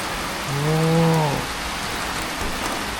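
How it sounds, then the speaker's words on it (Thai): Steady heavy rain hisses across everything during a storm at a resort in Lopburi, Thailand, with a short low droning tone rising out of the downpour early on; no thunder stands out. "ฝนตกพายุเข้า"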